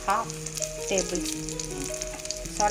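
Three small onions fry in a pan already holding fenugreek seeds for a Kerala okra tamarind curry. A strong, close sizzle runs throughout, with a faint melodic tone underneath.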